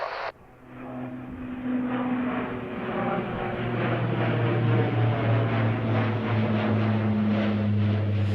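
A Boeing 737 jet lands on a runway, a steady, broad engine roar with a low droning hum that builds slightly and holds, heard from a distance with no talk over it.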